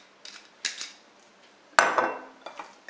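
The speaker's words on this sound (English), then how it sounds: "And mix them all together." A utensil clinks and scrapes against a bowl in a few sharp, close strikes as raw shrimp are mixed with spices and olive oil for shrimp curry, with a louder ringing clatter midway.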